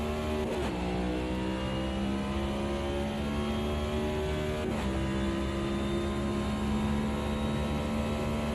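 Stock cars racing on the Daytona road course in a NASCAR-style racing game: a steady, loud engine drone with rising tones as the car accelerates, and two short shifts where the pitch drops before it climbs again.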